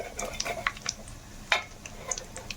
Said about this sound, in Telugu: పల్లీలు కూడా వేగిపోయినాయి కదండి